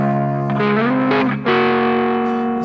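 Electric guitar through the blue overdrive setting of Amplitube X-Drive, a warm old-school overdrive, plays sustained distorted chords and notes with a brief bend, loud and close with no talk.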